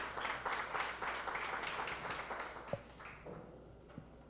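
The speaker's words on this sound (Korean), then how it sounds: "네, 박수 부탁드립니다." Modest applause from a fintech startup forum audience welcoming a speaker to the stage, a short burst of clapping that thins out into a few scattered claps.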